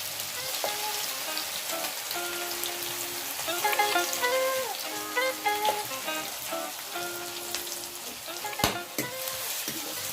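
Cloves, cardamom, cinnamon, onion, garlic and bay leaf fry in hot oil for a mutton curry over a wood fire, a steady close sizzle with crackling pops and an occasional utensil clink.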